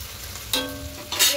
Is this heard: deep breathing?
no